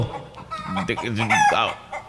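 A rooster crows with a long, rising and falling call, close by and loud, with some clucking around it.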